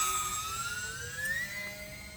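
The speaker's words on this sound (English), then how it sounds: "It's surprisingly noisy for being a little UMX with 2 brushless motors with props" Small E-flite Aero Commander UMX RC plane with two brushless motors and propellers whines steadily overhead, its pitch rising gradually in a thin, fairly faint drone.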